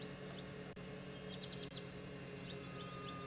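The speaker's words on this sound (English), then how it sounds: "You can hear some oxpeckers just now." Oxpeckers call on a South African morning safari, giving short, thin chirps in small clustered bursts at a moderate distance over a steady background hum of insects and bush ambience.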